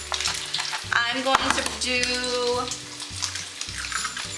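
Eggs scrambling in a hot pan for a big breakfast, a steady close sizzle with scraping stirs, while a voice talks throughout over it.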